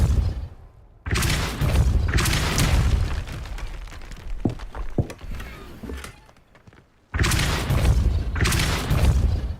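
In Hogwarts Legacy, a cast Depulso spell lets out a loud whooshing, booming burst that surges abruptly, fades into rumbling debris, then a second blast erupts near the end, with no talk over it.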